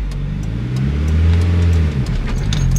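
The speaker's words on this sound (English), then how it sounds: "Too many revs." A car engine revs loudly and steadily, rising and holding high, as a learner driver works the clutch of a manual car while pulling away.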